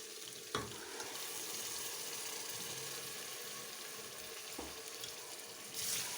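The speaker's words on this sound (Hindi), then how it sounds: "अब मैं इसमें ये पिसे टमाटर डालूँगी।" Ground tomatoes hit a hot pan for a restaurant-style Balti chicken, setting off a steady broadband sizzle with a couple of sharp clinks and stirring knocks, close and continuous for the whole stretch with no talking.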